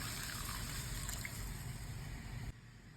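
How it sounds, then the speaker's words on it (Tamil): Tender coconut water is poured into rasam, giving a faint, steady watery rush that runs evenly and drops off near the end. "ஒரு 2 மினிட்ஸ் குக்காக எடுத்து இப்போ நம்ம வந்து இளநீர் கொட்டிடலாம்."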